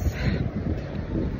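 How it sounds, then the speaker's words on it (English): Wind buffets the microphone outdoors with a steady, rough low rumble and gusty roar throughout. "Windy"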